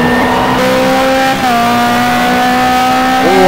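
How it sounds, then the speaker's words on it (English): A BMW race car engine in the FIA GT racing game GTR2 drones loudly and steadily at high revs, its pitch dipping briefly at a gear change and then climbing again. "Oh, I love the engine noise coming out of that BMW."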